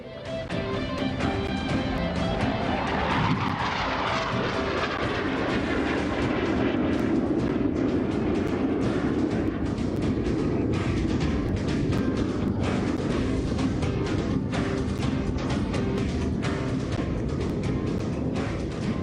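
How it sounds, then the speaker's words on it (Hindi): A HAL Hawk Mk 132 jet trainer flies past at an outdoor Rashtriya Ekta Diwas celebration. A loud, sustained roaring rumble with crackling texture fills the whole stretch, its pitch sweeping as the aircraft passes. "हिंदुस्तान एरोनॉटिक्स लिमिटेड द्वारा विकसित हॉक मार्क 132 आपकी बाईं ओर से"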